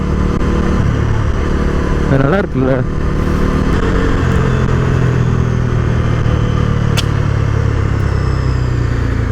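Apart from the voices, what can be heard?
motorcycle exhaust whistle while revving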